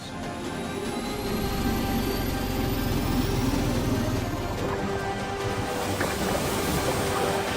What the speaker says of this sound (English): Keep hitting it with that blower. Increasing to 600 RPMs.